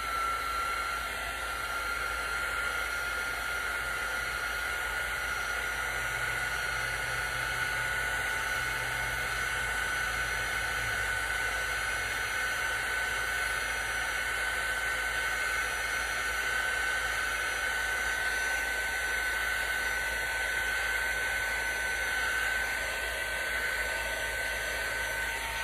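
A hair dryer or heat tool blows without a break to dry a coat of paint on a buffalo plaid candy corn craft, a loud, steady whirring rush that runs alone the whole time.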